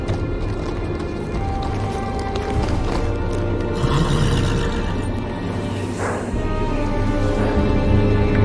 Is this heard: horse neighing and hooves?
yes